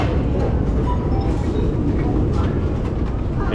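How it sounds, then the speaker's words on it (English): A Tbilisi metro train in Georgia carries passengers underground, filling the car with a steady, loud rumble and rushing noise, while faint voices murmur beneath it. "down the Georgian Tbilisi subway"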